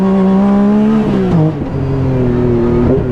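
A tiny off-road buggy powered by a 1000cc snowmobile-derived engine revs close by, a loud high-pitched whine that dips briefly and climbs again, steady and uninterrupted with no voices.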